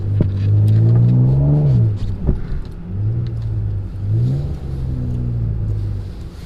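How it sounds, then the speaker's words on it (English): A car's exhaust revs up loudly and close, rising and falling through two long throttle blips with a deep rumbling drone between them. "Oh my God, exhaust sounds so good."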